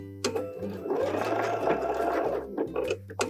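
A sewing machine stitches a purse seam in a quick burst of rapid, rhythmic needle clatter, heard up close and starting and stopping sharply, with no voices.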